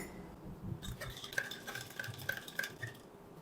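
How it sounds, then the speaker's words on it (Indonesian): A spoon stirs iced kopi susu made with moka-pot espresso, clinking repeatedly against the glass and ice in an uneven rhythm of bright taps, close and moderately loud with no talking. "Sekarang kita akan aduk dulu."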